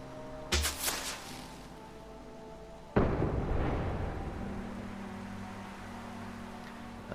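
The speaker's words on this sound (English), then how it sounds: "We have another clear weather mortar" In Fallout 4, a mortar fires with a sharp boom and then a second heavy blast explodes, its rumble fading slowly. Both are loud and close with no talk, and a low mechanical hum continues afterward.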